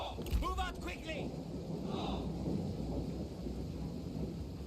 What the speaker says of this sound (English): Beautiful thunderstorm sounds.